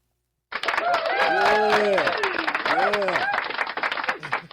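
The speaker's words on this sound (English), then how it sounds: "Go ahead and give him a cheer." A live show audience cheers with loud whoops and shouts over scattered clapping. It bursts in suddenly and keeps up steadily for several seconds.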